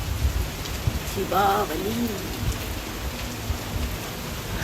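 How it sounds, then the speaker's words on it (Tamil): Steady rain hisses down outdoors on a cold Diwali night, a dense even wash of drops that fills the whole stretch, with a brief voice speaking partway through. "பாருங்க, மழை மழை மழை மழை"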